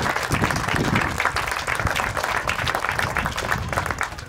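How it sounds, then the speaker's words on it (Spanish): Guests at a quinceañera party give the godparents a big round of applause, a loud, busy patter of many hands clapping close together and continuing without a break. "dar un fuerte aplauso otra vez para todos los padrinos"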